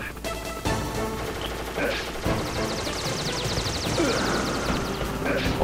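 Rapid bursts of helicopter gunfire from a Hind in Metal Gear Solid, sharp repeated cracks and rattling volleys over game noise, with a voice talking partway through.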